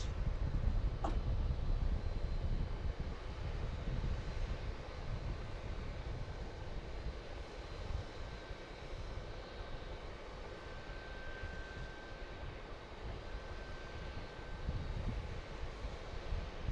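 A C-130 military transport aircraft flying near Harrisburg International Airport gives a continuous low, rumbling propeller drone, distant and steady throughout with slight swells, and no voices.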